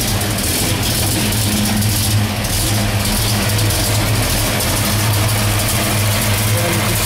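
A 1970 Plymouth Road Runner's Hemi V8 idles with a lumpy, low rumble, close and continuous, the beat rising and falling slightly.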